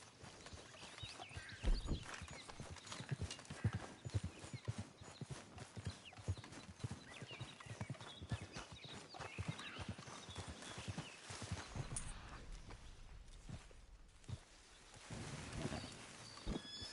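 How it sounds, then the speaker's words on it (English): Steady clip-clop of horse hooves in Red Dead Redemption 2, a fast rhythmic trot close by, with a brief whinny and faint ambient background. "Horse."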